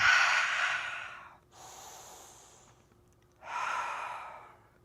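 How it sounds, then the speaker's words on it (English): Three deep cleansing breaths during a yoga session: a long forceful exhale, a softer breath, then another strong exhale, close and breathy with no talking. "3 cleansing breaths"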